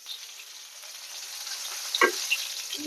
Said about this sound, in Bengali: মাছটা ভাজা হয়ে গেল